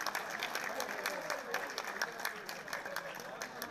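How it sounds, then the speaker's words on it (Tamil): Audience clapping at a Tamil Pongal celebration in the UAE, a steady, dense patter of hands that runs throughout, with a little crowd murmur underneath. "அவங்களுக்கு ஒரு கைத்தட்டலை போட்டுடலாமே"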